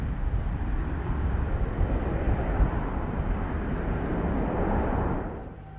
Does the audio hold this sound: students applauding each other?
no